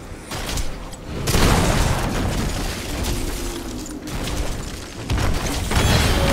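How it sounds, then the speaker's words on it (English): A fort is destroyed in the video game Heroes of the Storm, setting off a loud, dense game explosion with heavy booming bursts and crackling debris that swell and ebb continuously, with no talking. "Fort destroyed."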